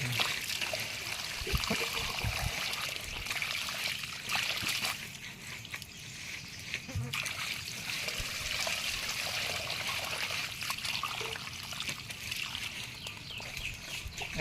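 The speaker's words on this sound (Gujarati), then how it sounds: "ગરમ પાણી આવે આમાં" Hot water runs in through a cement pipe line, a continuous splashing trickle that holds steady for the whole stretch, with a faint bird somewhere in the background.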